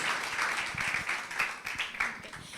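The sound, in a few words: congregation applause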